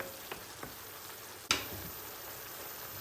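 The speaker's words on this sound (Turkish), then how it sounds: "Bir tur karıştırıyoruz. İnanılmaz derecede güzel mantar kokuları geliyor." Mushrooms fry and sizzle steadily in a pan, a close, soft crackle. A few light scrapes come as the dish is stirred, with one sharper clatter midway.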